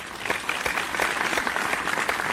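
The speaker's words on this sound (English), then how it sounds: "Let's give her a round of applause." An office team claps together, a brisk burst of close, fairly loud applause with distinct individual claps lasting a couple of seconds.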